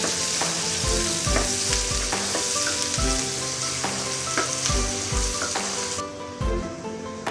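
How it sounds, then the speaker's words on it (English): Onion and ginger sauté in a hot pan with a bright, continuous sizzle, punctuated by repeated low knocks and scrapes of a utensil stirring against the pan; close and steady, with no talking. "Palambutin lang natin ng konti yung onion natin guys."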